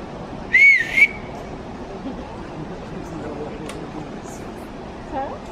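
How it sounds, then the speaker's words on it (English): A person whistles two short, bright notes in quick succession early on, fairly close, then only faint outdoor background remains. "Give a whistle."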